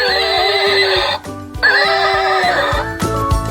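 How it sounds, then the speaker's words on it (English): A toy horse whinnies loudly with an electronic, synthetic tone, accompanied by rhythmic clip-clop hoofbeats, clear and close. "My horse even makes a sound"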